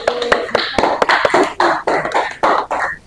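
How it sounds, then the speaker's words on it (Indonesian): A short burst of clapping from a small group in a classroom, with uneven overlapping claps lasting a few seconds. "Silakan duduk. Tepuk tangan dulu dong."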